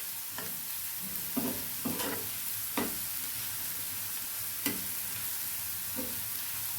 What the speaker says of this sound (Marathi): तेलावर आपल्याला छान ही हिरवी मिरची लसूण परतून घ्यायचे कांद्यासोबत